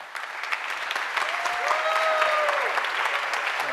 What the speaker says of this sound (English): please, a big hand of applause for our next speaker